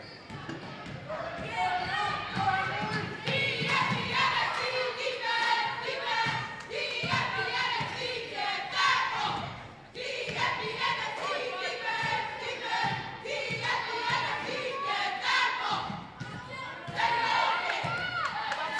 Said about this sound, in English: I didn't want to interrupt their cheer, but our St. Paul's cheer team is doing an amazing job